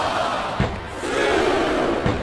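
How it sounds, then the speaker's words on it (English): A wrestling arena crowd in WWE SmackDown vs Raw 2007 chants loudly and rhythmically, a dense roar of many voices with periodic swells, filling the whole stretch without commentary over it. "I'm not sure I agree with what the crowd is chanting, JR, but I guess it's their right."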